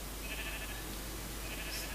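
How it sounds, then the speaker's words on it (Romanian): Minecraft sheep bleat faintly in the distance, a couple of soft thin cries over a steady hiss of background noise. "Mamă, câte oi"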